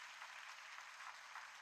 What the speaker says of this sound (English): Come on, clap loudly for this wonderful presentation.